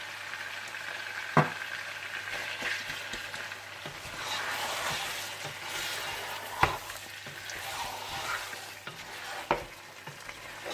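Mutton frying with salt, chicken cube and ground ginger garlic gives a steady close sizzle, with a few sharp spoon clacks against the pot as it is stirred.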